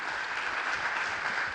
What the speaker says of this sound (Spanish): les pido un aplauso por favor para Rocío